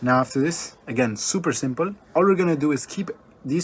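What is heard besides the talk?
No everyday noises stand out.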